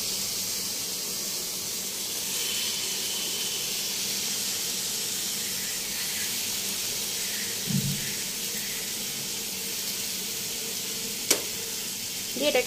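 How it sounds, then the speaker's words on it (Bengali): Cooled boiled pasta tipped into a hot pan, giving a steady close sizzling hiss that runs throughout, with a brief clatter near the end and no talking. "এবার এই পাস্তাটা এর মধ্যে দিয়ে দিচ্ছি।"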